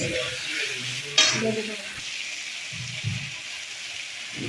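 Spice masala with cauliflower and potato sautéed in a pan, a soft sizzle under a few scraping stirs and one sharper clink near the start, close and unaccompanied.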